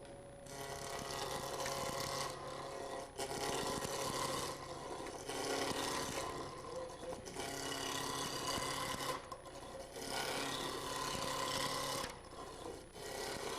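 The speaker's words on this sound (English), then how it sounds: "And I'm just using a spindle roughing gouge." A spindle roughing gouge rounding a square wood blank on a spinning lathe, giving a loud, steady rasping scrape that rises and falls in repeated passes.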